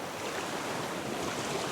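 Ocean waves in the survival video game Raft make a steady, full wash of surf and rushing water, with a continuous roar and no distinct breaks.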